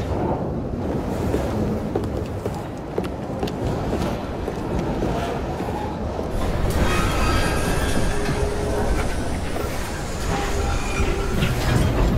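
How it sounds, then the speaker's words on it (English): In the video game Assassin's Creed Syndicate, a train rolls along the rails with a loud, continuous rumbling roar, clattering wheel noise and a brief hiss of steam, with no talking over it. "At least we have a train now."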